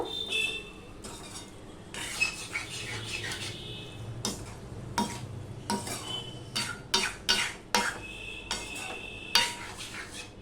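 Sugar being stirred into a vegetable curry made without onion or garlic: a ladle scrapes and clinks irregularly against a metal pot over a low simmer, with quiet gaps between bursts of stirring and no talking.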